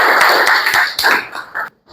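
Students in a classroom burst into dense, loud clapping for under two seconds, then it breaks off abruptly into silence.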